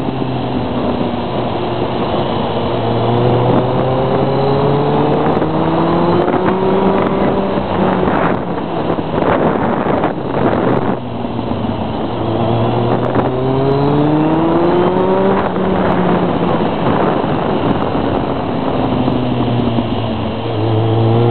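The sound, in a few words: Kawasaki ZRX 1200 four-cylinder motorcycle engine riding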